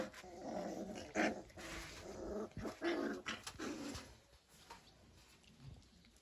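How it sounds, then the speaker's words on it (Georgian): Mudi puppies growl and grumble close by in soft, irregular bursts and snuffles, fading toward quieter scuffling near the end with no talking. "ვინც დაინტერესდებით ამ ლეკვებით, ესენი არიან ფუმფულასი და ბაჩოშვილები."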